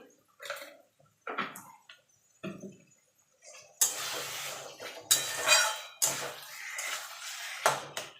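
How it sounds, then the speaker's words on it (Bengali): Kochu greens, taro leaves cooked with coconut and chickpeas, are stirred in a pan: scraping and clattering spatula strokes come in separated bursts, quiet at first and then louder and wetter, close up with no talking. "এবার ভালো করে নাড়াচাড়া করে মিনিট দিয়ে সেটাকে রান্না করে নেবো"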